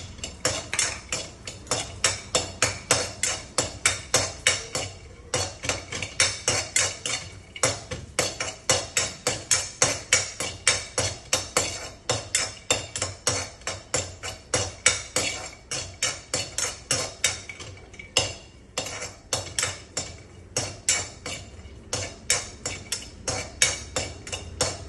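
Raisins are roasted in a pan and stirred with a utensil, giving rapid, rhythmic metallic scrapes and clinks that repeat steadily and close by for the whole stretch, with brief pauses and no talking.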